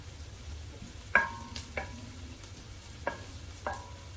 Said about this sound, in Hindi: अब हमने इसको सिर्फ 10 सेकंड के लिए ना ज़रा फ्राई करना है